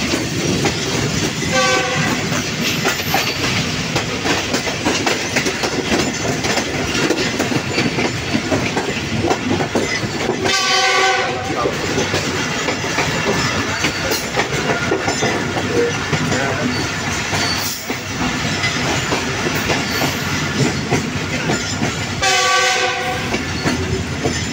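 Jaffar Express passenger train running on the track between Okara and Lahore, a loud continuous rumble with rhythmic wheel clatter on the rails and brief horn-like tones recurring, heard from aboard.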